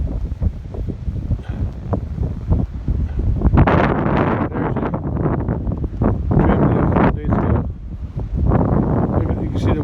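Strong, cold storm wind blows across a big cattle pasture, roaring and buffeting the microphone in loud gusts that swell and ease throughout.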